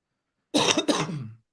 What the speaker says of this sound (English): I'm recovering from a cough.